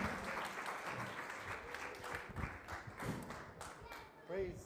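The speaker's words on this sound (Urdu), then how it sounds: "زوردار تالیوں کی آواز بہت کم ہے" A church congregation claps together in steady, dense applause, with voices calling out over and among the claps throughout.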